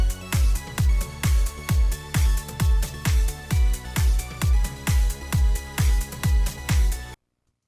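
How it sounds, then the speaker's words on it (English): Electronic drum loop with a synth line and no sidechain compression, steady kick hits about every half second under a sustained synth layer that holds level between beats, loud and close, with no talking. "When everything is played together without the sidechain compressor engaged on the synth,"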